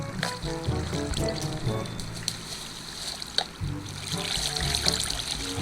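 Water flows and trickles in a Minecraft-style lucky block race game, running continuously under game music and sound effects, with a voice talking over it at times.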